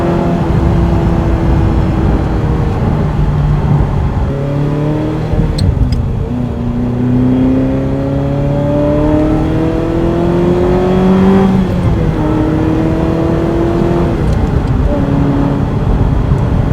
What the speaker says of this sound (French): là on entend le V8 qui s'exprime